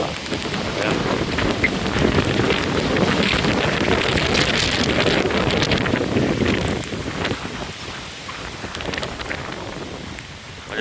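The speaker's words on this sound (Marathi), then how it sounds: "माझ्या बाजूलाच रिव्हर्स वॉटरफॉल आहे." Strong wind buffets the area near a reverse waterfall by Jivdhan fort in the Sahyadri hills, a loud, constant roar of rushing air and spraying water, easing slightly toward the end.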